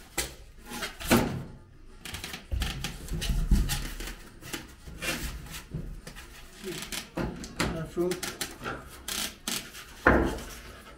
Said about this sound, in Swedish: Men jag har tagit med mig sandpapper.